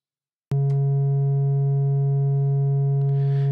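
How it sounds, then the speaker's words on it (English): A modular synth oscillator outputs a pure sine wave on a low C, starting abruptly after half a second of silence and holding a steady, smooth, loud tone, with a brief faint hiss near the end. "So the first output is a sine wave, and you've probably seen this in math and with your graphing calculator."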